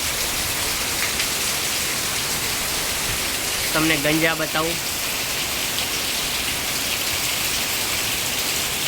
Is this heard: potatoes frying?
no